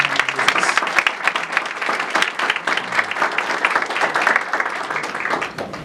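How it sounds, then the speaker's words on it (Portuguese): A church congregation claps loudly for several seconds during a sermon, a dense, lively burst of hand clapping with sharp individual claps standing out. "Dê um aplauso forte ao Senhor."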